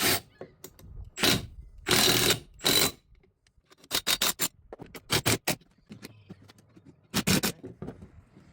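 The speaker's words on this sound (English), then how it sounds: "So we'll tighten these brackets, or tighten the compressor to these brackets" Ratchet tightening an air compressor onto mounting brackets on a Ram 1500 frame, bursts of rapid clicking strokes separated by short pauses, close and clear.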